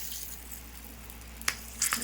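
Hot oil tempering with asafoetida, turmeric and two green chillies, a faint steady sizzle with a low hum beneath, followed by a few sharp spitting crackles near the end.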